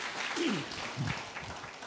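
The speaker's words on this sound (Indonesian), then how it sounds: "Tepuk tangan lagi bagi dia yang luar biasa." A congregation applauds during a church service, a soft, distant, diffuse patter of clapping with a voice faintly audible underneath.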